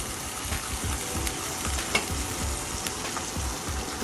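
Onions frying in Amul butter in a pan, a dense steady sizzle with soft stirring scrapes and an occasional tap, close up and without talk.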